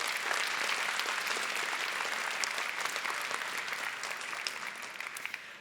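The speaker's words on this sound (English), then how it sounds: "Let's give them a round of applause." Sustained audience applause at a scientific symposium, a dense, steady wash of many hands clapping at even loudness throughout, with no speech over it.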